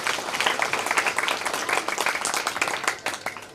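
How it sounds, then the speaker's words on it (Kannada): Loud, sustained applause from a large audience at a temple festival gathering in honour of a goddess, dense clapping rolling steadily and close throughout, with no voices on top. "ಅವರೆಲ್ಲರಿಗೂ ಒಂದು ಜೋರಾಗಿ ಚಪ್ಪಾಳೆ ಹಾಕ್ತಾರೆ"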